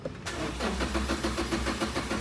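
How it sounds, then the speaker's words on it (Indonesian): A 2022 Toyota Avanza with a non-working fuel pump cranks on its starter without firing, a steady rhythmic whirring churn lasting about two seconds, close and loud with no talk. "nah ini starter nggak mau hidup"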